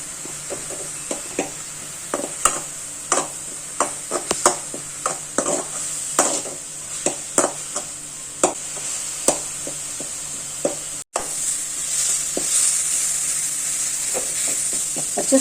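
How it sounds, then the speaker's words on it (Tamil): Masala sautéing in oil for a fish curry sizzles steadily while a spoon scrapes and clicks against the pan in regular stirring strokes, close up with no voices. "பச்சை ஸ்மெல் போக நல்லா வதங்கிடுச்சு."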